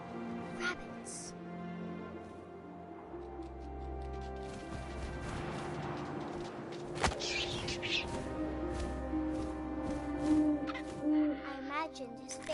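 An owl hoots in the game What Remains of Edith Finch, low calls sounding over a steady wind-like ambience with a voice present and a sharp knock in the middle.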